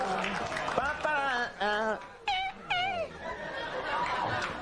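A late-night talk show studio audience groans and moans in drawn-out waves of disapproval, several rising and falling wails with scattered laughter mixed in, loud and close.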